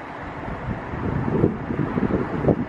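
Wind gusting outdoors on an autumn camping trip, a steady low rumble of buffeting on the microphone that swells and surges in louder gusts throughout.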